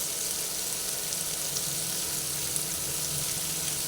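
Salted vegetables for a vegetarian red spinach and poppy seed dish sizzle steadily in a pan while being stirred, a dense, even frying hiss close by with no voices.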